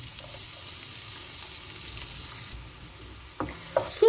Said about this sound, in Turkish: Soğanımızı kısık ateşte pembeleşinceye kadar yaklaşık 3-4 dakika kavuruyoruz.